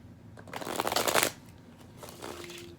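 Tarot cards being shuffled near the floor, a rapid riffling flutter that builds for about a second, then a quieter second burst of shuffling.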